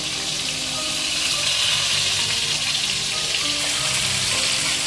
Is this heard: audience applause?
no